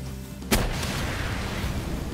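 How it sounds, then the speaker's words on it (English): A rocket launcher fires in Palworld, giving one sharp, loud blast that rolls straight into a sustained rumbling roar of explosion and noise, heard with no talking. "One more rocket."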